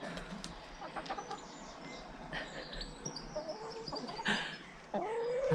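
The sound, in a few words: chickens clucking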